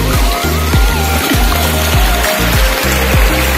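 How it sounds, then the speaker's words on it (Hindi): A mountain waterfall in the Himalayan hills of Himachal or Uttarakhand rushes in a constant, loud, broadband roar, with steady low thumps running underneath it. "देखिए एक और झरना"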